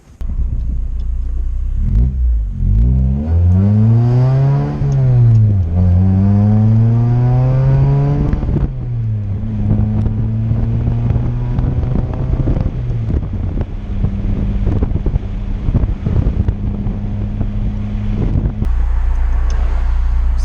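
A third-generation Honda Prelude fitted with solid shifter mounts drives with a loud interior engine drone that climbs in pitch through the gears. Several distinct gear shifts drop the revs, followed by steady cruising and wind rumble.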